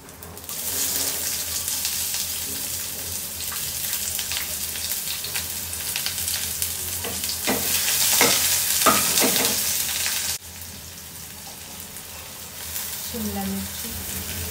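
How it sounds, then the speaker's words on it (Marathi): Garlic sautéing and being stirred in a pan over low gas, a steady sizzle with scraping stir strokes throughout, briefly louder midway, with faint water-like sounds nearby. "तर इथं मी आता लसूण टाकते सगळ्यात अगोदर. बारीक गॅस करते. लसूण छान परतून घेणार आहे"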